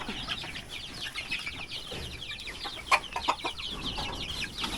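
Hungry hens cluck in a busy flock, with overlapping calls over steady farmyard background noise and a couple of sharper squawks near the middle.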